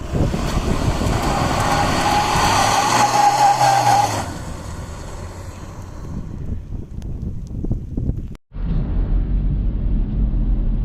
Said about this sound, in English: We're revving the motor, the rear wheels are spinning